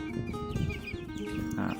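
Laying-hen chickens, about three weeks old, cluck and chirp in a farm coop, a steady busy flock chatter close by with a slightly louder burst near the end.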